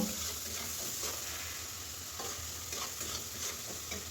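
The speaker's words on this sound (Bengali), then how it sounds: "দিয়ে মশলাটা খুব ভালো করে ভেজে নেব" Spice paste with coriander powder fries and is stirred in a pan for a fish curry, giving a dense, even sizzle with brief scraping strokes over a few seconds.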